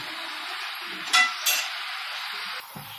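Mushroom gravy being stirred in a pan, a steady soft sizzle running throughout with two brief scraping clinks of a spoon against the metal partway through.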